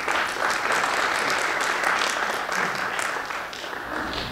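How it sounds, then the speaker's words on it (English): An audience at a college-planning talk breaks into steady, even applause that carries on for several seconds and fades slightly toward the end. "I'm glad you're applauding before in case you don't want to applaud after"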